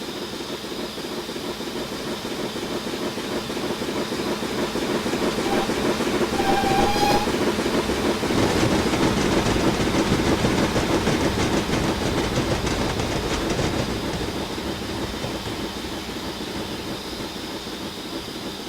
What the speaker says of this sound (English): We're just doing a run with the 2MT on Western Lines of Scotland